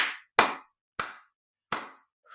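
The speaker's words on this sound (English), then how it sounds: "another clapping clearing" Four sharp, close hand claps spaced unevenly about half a second apart, each ringing briefly into a quiet room, with a softer fifth clap starting at the end.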